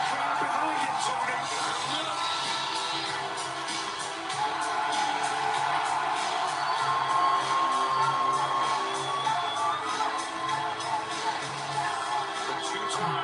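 Crowd cheering and roaring at an AEW WrestleDream pro wrestling event, a steady wash of arena noise with scattered whoops that swells in the middle and stays loud throughout.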